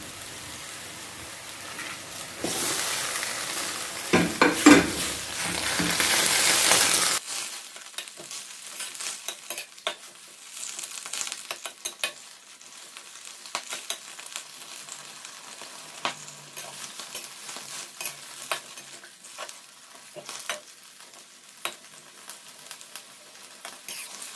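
Chinese kale stir-frying in a pan with oyster sauce: a loud burst of hissing sizzle early on, then quieter frying with repeated spatula scrapes and clicks, close by with no voices.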